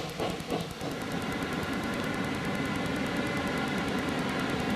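A train runs on a railway serving Cragganmore whisky distillery in Scotland, a dense steady rumble with a fast rhythmic clicking of wheels on rail joints, loud and continuous, no voices.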